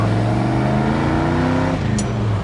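Dodge Li'l Red Express V8 rumbling through straight exhaust stacks that exit just behind the cab, a steady loud low burble with a deeper drop in pitch near the end.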